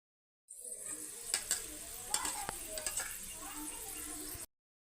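Hot oil tempering for amla pickle crackles and sizzles in a lively burst, with a few sharp pops over a steady hiss and faint talk in the background.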